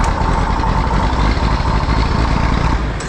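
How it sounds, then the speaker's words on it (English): A farm tractor fitted with a new injection pump and new injector runs loud and close just after starting, a steady rough diesel chug for a few seconds. "Tractor's definitely starting a lot better with that new injection pump, an all new injector"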